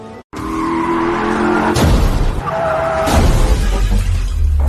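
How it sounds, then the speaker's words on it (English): A car skids and crashes over a cliff edge beside a curving road, with sharp shattering impacts and scraping bursts over a loud, sustained roar, two heavy crash hits standing out close and harsh. "His car was pushed over the cliff."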